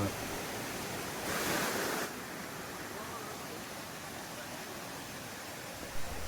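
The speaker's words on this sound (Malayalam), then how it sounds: "പാറക്കല്ലുകളെ തട്ടിച്ചതൊരു വെള്ളച്ചാട്ടമായി മാറുകയും" Steady broadband rush of a waterfall splashing over rocks near the Thirubali Mahadeva temple, a constant close wash of water with a brief louder swell.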